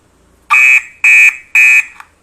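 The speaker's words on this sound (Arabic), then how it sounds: "يعني الانذار شغال مش مرتبط معايا بنور او بحاجة" A homemade door alarm, built for a home or shop door, sounds three loud, close electronic beeps in an even rhythm, each lasting about a quarter second.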